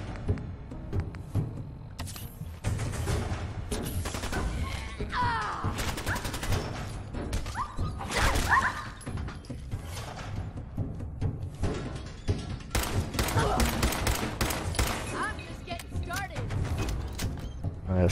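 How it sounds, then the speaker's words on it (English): Submachine gun fire in Fallout 4, rapid bursts of shots repeating through a loud, dense game mix. Other game sounds run throughout. "Submachine gun."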